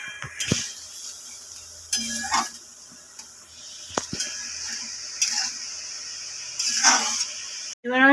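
A spoon scrapes and clinks against a pan while fried ingredients are stirred into a white sauce pasta gravy, in irregular bursts of close metallic knocks and scraping with quiet gaps between.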